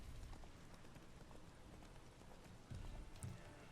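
Horse hooves clip-clopping at a steady riding pace in The Witcher III, a continuous rhythmic patter close by with a brief louder thump near the end and no talk.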